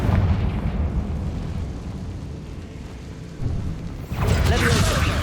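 A Confringo fire spell from Hogwarts Legacy bursts near the end over a low rumbling background, a loud crackling blast that swells and stays up briefly.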